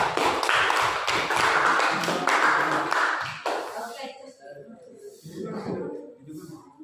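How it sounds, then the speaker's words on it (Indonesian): A classroom audience applauds a presenting group: dense clapping for about three seconds, then it thins out and fades under murmuring voices. "Beri aplaus kepada kelompok Bapak"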